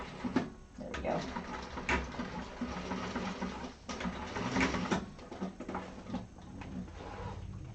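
A sewing machine runs stitching a seam allowance on vinyl for a handbag lining, its steady mechanical whir broken by short pauses and handling knocks, with a voice talking over part of it.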